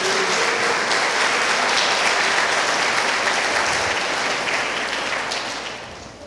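A church congregation applauds in praise, a dense, steady wash of many hands clapping together that holds loud for several seconds before gradually fading toward the end, with no talking over it.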